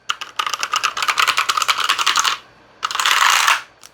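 Rapid, steady typing on a compact, lightweight mechanical keyboard, close and crisp, running in two bursts separated by a brief pause, with no talking.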